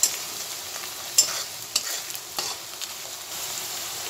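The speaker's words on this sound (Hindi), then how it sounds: "इस अनियन को हम थोड़ी देर तक फ्राई करेंगे, एक दो मिनट तक का, जब तक का कि ये गोल्डन ब्राउन कलर का नहीं हो जाता" Chopped onion frying in a pan while being stirred, a steady soft sizzle with a few sharper scraping clicks from the spoon, close and fairly quiet, no voices.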